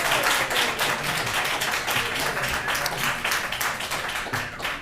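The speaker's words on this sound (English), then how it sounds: "I'm gonna let you guys clap that one time" Audience at a public meeting clapping steadily and loudly for about five seconds, a dense wash of many hands that fades slightly at the end.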